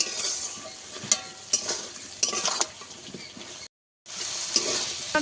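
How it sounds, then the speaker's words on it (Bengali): Cumin and coriander powder sautéing in a pan for a spinach dish, a steady close sizzle with repeated scraping stirs, briefly cut to silence before the frying resumes. "মশলা ভালোভাবে আমি একটু কষাবো"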